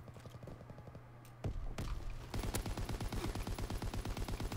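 Gunfire in a WW2 shooter game: a rapid regular burst of automatic fire, then a couple of heavy single shots, then sustained fast machine-gun fire close up and loud to the end.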